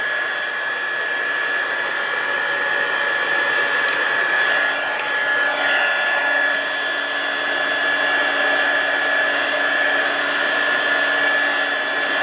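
Heat gun blowing hot air onto resin poured on a wavy tray, a steady close roar with a faint whine that runs unbroken from start to finish.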